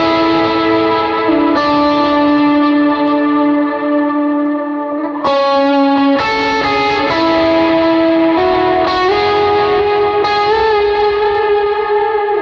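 Electric guitar played through a Golden reverb pedal on a praise and worship pedalboard, sustained chords ringing with lush, washy reverb and changing every couple of seconds, loud and continuous with no talking.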